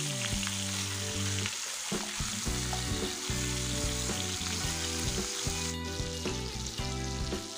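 Pork steak sizzles steadily in a hot pan, a constant close crackle and hiss under a background of music.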